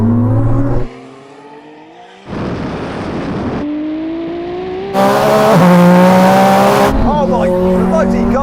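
Nissan Safari accelerating hard from about 50 km/h in second gear during a rolling-start race, loud engine revving and climbing through gear changes with tire noise, close and continuous.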